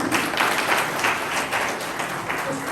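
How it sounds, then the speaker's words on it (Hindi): A large gathering of people at a disability event in a field claps in a dense, sustained burst of applause, steady and fairly loud throughout. "तो जोरदार तालियां अपने लिए बनी।"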